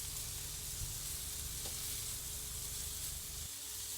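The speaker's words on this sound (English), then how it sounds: "turn the prawns over and cook the other side" Cornstarch-coated prawns frying in oil in a pan, a loud, continuous close-up sizzle and hiss with no pauses and no talk.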